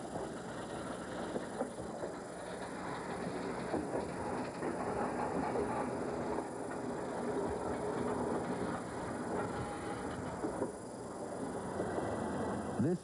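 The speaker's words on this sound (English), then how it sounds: "starting a freight train rolling is similar to getting an automobile moving" A steady low rumble of a heavy diesel freight train starting to roll, with faint rhythmic clatter and engine drone throughout, no voices.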